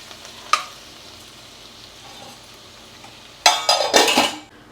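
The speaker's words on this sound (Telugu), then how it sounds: "అల్లం వెల్లుల్లిపాయ వేగిపోయిందండి" Ginger garlic paste fries in a pan, with a faint sizzle in the background, one sharp clink early on, then a louder burst of rattling and scraping near the end.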